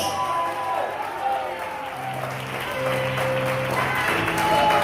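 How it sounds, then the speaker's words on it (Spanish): Church congregation applauding during a worship service, steady broadband clapping throughout with sustained music tones and voices layered underneath. "Denle un aplauso al Señor y diga gloria a Dios."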